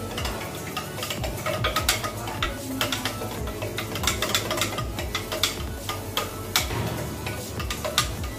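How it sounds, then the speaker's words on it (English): A spoon stirs a homemade ginger beer mixture with sugar, tapping and clinking against the container in a quick, irregular rhythm of small ticks that runs steadily throughout. "Again stir it nicely."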